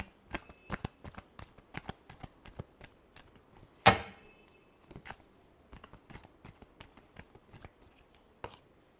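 Tarot cards shuffled by hand indoors: rapid dry riffles and taps in irregular bursts, with one louder riffle cascade partway through, close and quiet with no talking.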